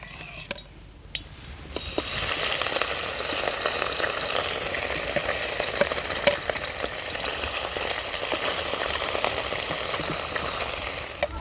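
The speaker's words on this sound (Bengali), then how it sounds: "তেল গরম হয়ে গেছে এবার দিয়ে দেব মাছগুলো" Small river fish rubbed with salt and turmeric hit hot oil after a quiet moment, setting off a sudden loud, crackling sizzle that holds steady and close for the rest of the stretch.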